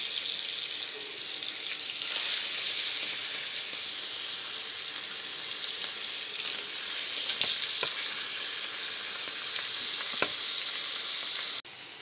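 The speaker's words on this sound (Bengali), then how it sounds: "ভাজার জন্য দিয়ে দিলাম" Pabda fish rubbed with turmeric and salt fry in hot oil with a steady, close hiss and sizzle, broken by a few sharp crackles and spits and one utensil knock near the end.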